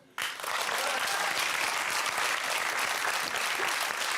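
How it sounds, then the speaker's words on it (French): A live studio audience bursts into dense, loud applause for a mentalist, starting abruptly and holding steady to the end with no distinct voices on top. "On peut l'applaudir."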